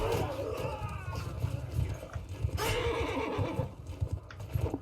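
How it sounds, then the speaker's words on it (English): A horse neighs and whinnies during a battle in the video game Mount & Blade Bannerlord, with clip-clopping hooves and a busy wash of combat noise around it. "My poor horse."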